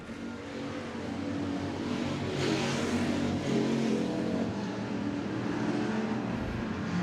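Hobby stock cars race at Wagner Speedway, their engines roaring in a dense, continuous, loud drone that swells slightly as the pack runs down the backstretch into turn three.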